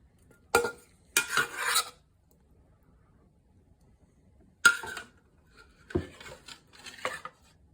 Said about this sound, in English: next up, our beautiful stir fry